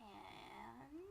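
A pet cat lets out an odd, drawn-out, wavering vocal noise close by. The pitch bends down and then rises again, and a person briefly speaks over it.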